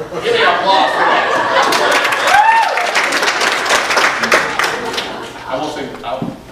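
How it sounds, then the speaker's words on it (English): A crowd claps and cheers for several seconds, with scattered voices and chatter mixed into the applause. "Give me applause for that."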